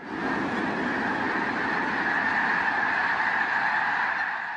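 Dense chorus of migrating geese honking continuously in Sacramento Valley wetlands, a large flock heard at a distance as a steady layered wash of calls with no talking.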